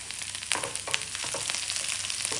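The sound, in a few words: onions frying in oil with mustard seeds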